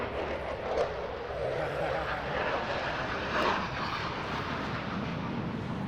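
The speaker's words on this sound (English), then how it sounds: "Interrupted by an F-16." An F-16 fighter jet roars overhead at the Sun 'n Fun air show, a loud broad rushing engine noise that swells and holds for several seconds, with people talking underneath.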